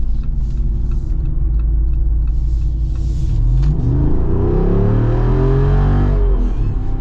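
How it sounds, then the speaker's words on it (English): A 2025 Jeep Wrangler Rubicon 392 with its big naturally aspirated V8 accelerating, a loud deep rumble that rises in pitch as the engine revs up through the gears. "you got a big naturally aspirated V8, so you got quick response, and then you just got this strong low end"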